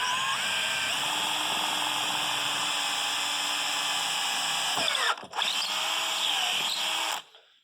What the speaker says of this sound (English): you're going to drill straight down all the way through the bottom of the mold.